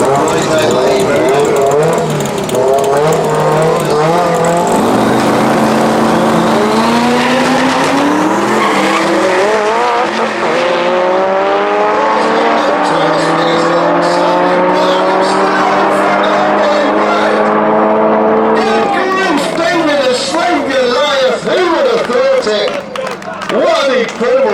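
No-prep drag race cars roar down the strip, engines howling and climbing in pitch through gear changes, loud and continuous with an announcer talking over the run.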